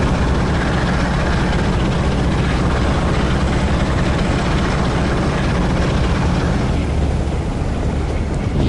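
A train engine on a Trans Pennine mail run in Train Sim World is opened up to full power. A loud, constant, heavy mechanical drone fills the whole clip without a break.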